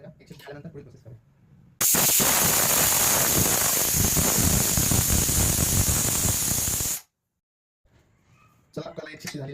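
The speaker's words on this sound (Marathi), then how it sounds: "चला, आपल्याला एक शिट्टी झालेली आहे." A home kitchen pressure cooker cooking dried peas and chickpeas lets out one loud, steady steam whistle that hisses for about five seconds, then cuts off sharply. Speech is heard before and after it.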